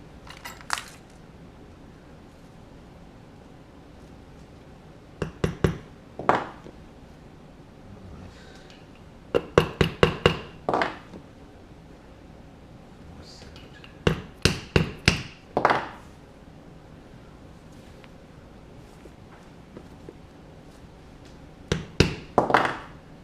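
A leather bag has a rivet set with a hammer: clusters of sharp, close metallic taps, several blows in quick bursts separated by pauses, with quieter handling sounds between.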